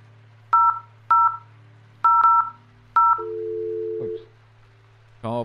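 Telephone keypad tones from dialing zeros in the video game The Guest: five short beeps in an uneven rhythm, followed by a longer steady tone and a brief warbling sound, all heard clearly over a low constant hum.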